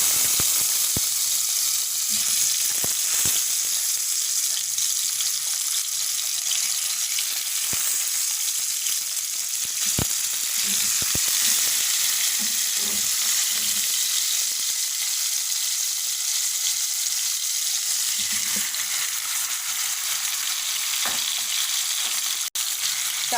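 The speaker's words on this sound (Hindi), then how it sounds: "अपना मैरिनेट किया हुआ चिकन ऑयल में शामिल करेंगे।" Steady, loud sizzling of marinated chicken frying in hot oil, a continuous crackling hiss with occasional sharper pops and spatters, no voices.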